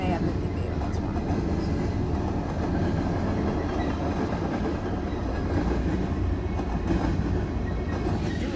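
A CSX mixed freight train with a mid-train DPU rumbles past in Kingston, New York, making a steady heavy roll of wheels and engine noise with faint clickety-clack, close and continuous throughout.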